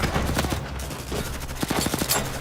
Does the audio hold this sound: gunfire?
yes